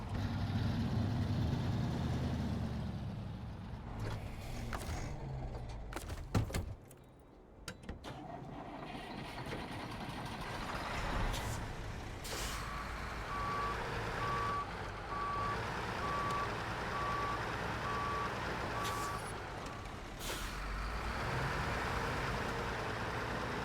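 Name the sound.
truck parking with reversing beeps in a truck driving video game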